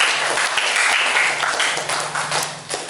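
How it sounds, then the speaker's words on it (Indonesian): Classroom of students clapping for a graduate, a dense steady patter of many hands sustained close by for about three seconds, no talking over it. "Tepuk tangan untuk lulusan Niam"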